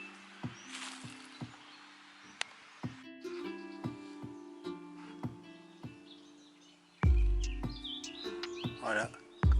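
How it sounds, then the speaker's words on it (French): Birds chirp and sing intermittently along a countryside trail in La Fare, with short sharp calls scattered through quiet outdoor air and a few louder rustles or knocks near the end. "quand on entend les chants d'oiseaux comme ça"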